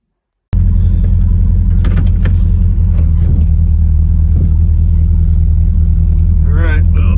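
An AMC Gremlin car engine rumbles steadily while driving, a loud low drone heard from inside the car, with a few brief rattles and a voice talking faintly near the end.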